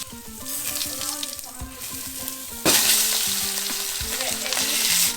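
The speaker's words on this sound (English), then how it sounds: "We're gonna give these guys a quick fry in some peanut oil" Freshly speared Hawaiian fish frying in peanut oil in a crowded pan gives a loud, steady sizzle that surges sharply when more fish goes in, close and continuous.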